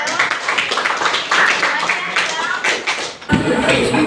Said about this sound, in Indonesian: Tepuk tangan untuk Marsya.